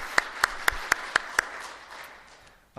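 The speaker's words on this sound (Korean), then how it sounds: "우리 아름다운 찬양을 해주신 음악위원회에게 다시 한번 뜨겁게 박수 한번 하도록 하겠습니다" A church congregation claps for its music committee after a hymn, a handful of sharp, evenly spaced claps standing out over a soft patter before fading out.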